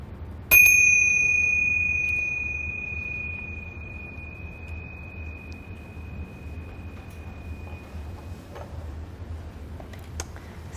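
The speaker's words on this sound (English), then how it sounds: "Listening to the sound of the bell." A meditation bell is struck once to close a session, a clear ringing tone that hangs and slowly fades for several seconds over a quiet room hum, with a few faint ticks later.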